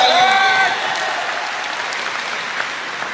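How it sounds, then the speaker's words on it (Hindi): A voice briefly calls out, then a room of attendees at a Forever Living sales seminar breaks into loud, sustained clapping that gradually softens. "एक बार जोरदार तालियां।"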